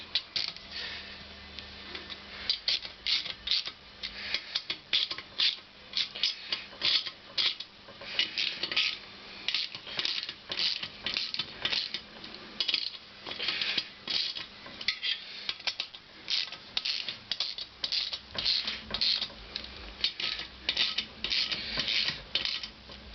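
A hand tool works the bolts on a Honda CX500 engine during a restoration, giving a continuous run of close metallic clicks, creaks and ratcheting scrapes.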